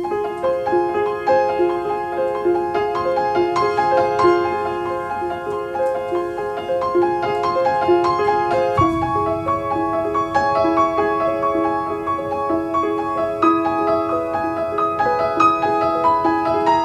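Seven-against-five polyrhythm, each of the two parts cycling through only three pitched notes, the two layers phasing against each other in a steady, even pulse at moderate loudness with no talking.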